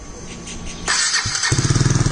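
KTM Duke 250 motorcycle with the DB killer removed from its exhaust, cranking then firing up into a loud, rapid, throbbing idle close by.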